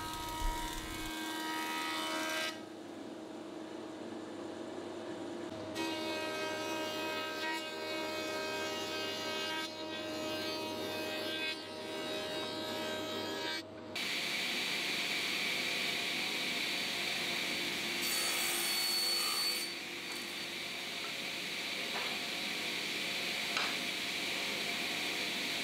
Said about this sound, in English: it's always a good idea to make sure that those edges are actually square by jointing it using a square fence.